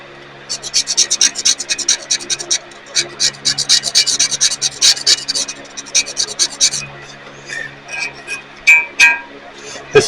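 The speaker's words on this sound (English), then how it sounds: "A little bit of paint on there. Gonna have to scrape that off." Rapid rasping scrape strokes work old paint off the saddle of a 1927 South Bend lathe, close and rhythmic in quick repeated bursts, pausing briefly before sharper final scrapes.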